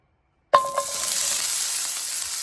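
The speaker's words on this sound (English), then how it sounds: "I'll add a little cooking oil, and then I'll add my onions." Onions hitting hot cooking oil in a heated pan give a sudden loud sizzle that settles into a steady, close frying hiss, with a faint stir early on.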